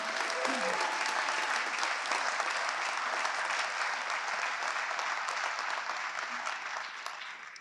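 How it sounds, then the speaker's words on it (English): A town meeting audience applauds steadily for several seconds, a dense, even wash of many hands clapping at moderate distance, with no voices over it. "So a big round of applause for all of our students."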